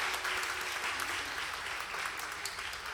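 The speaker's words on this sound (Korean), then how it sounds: "큰 소리의 박수로 축하하겠습니다." Congregation clapping during a Korean Sunday church worship service, a sustained, even wash of applause from many hands, moderately distant and continuing steadily throughout.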